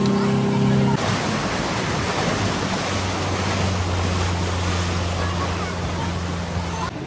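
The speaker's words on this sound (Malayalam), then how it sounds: "ബോട്ട് നല്ല പറന്നിട്ടാണ് പോകുന്നത്." A speedboat races over sea waves at Khorfakkan, with loud, continuous rushing water and wind buffeting the microphone and a steady engine drone running beneath the spray.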